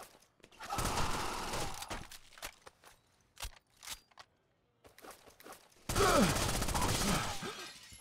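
Gunfire in the video game Rainbow Six Vegas 2: two long, loud bursts of rapid fire with scattered sharp shots and brief quiet gaps between them.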